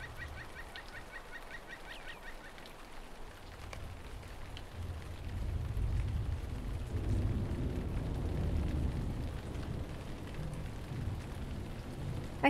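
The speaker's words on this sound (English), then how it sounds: "I'm hearing kind of rain and thundery noises now that I've turned up my background noises." Steady rain hiss with low rumbling thunder swelling in the middle, ambient weather in the video game Lord of the Rings Online, with faint game sounds and no talk.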